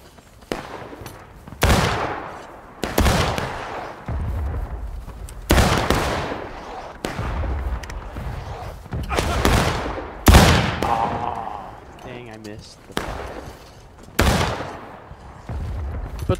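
Volleys of musket fire in the Civil War game War of Rights, with sharp, loud broadband cracks coming in bursts every one to two seconds, some shots overlapping into ragged rolling volleys.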